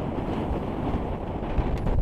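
Strong sea wind gusting over a sailing boat, a steady, close, rushing roar that buffets the microphone, with the wash of waves underneath and no voices.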